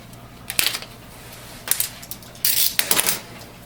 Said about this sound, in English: open up the ink cartridges. The plastic.